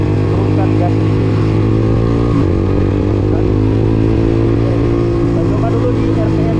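A single-cylinder motorcycle with a budget universal quickshifter runs at low RPM, a loud, close, steady thumping engine note with a brief dip midway, and someone speaks over it.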